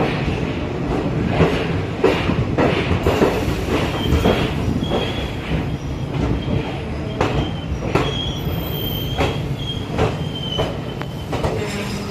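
The extended Amritha Express runs toward Rameswaram on the Manamadurai route, its wheels beating a rhythmic clickety-clack with occasional squeals over a steady rolling rumble.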